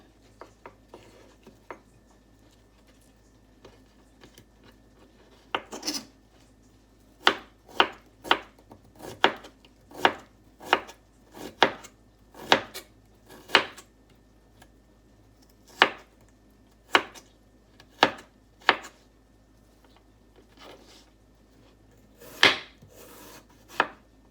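A knife thinly slices jicama on a cutting board in sharp, distinct chops. Scattered strikes at first give way to a steadier run of cuts, with pauses between them, close and quiet.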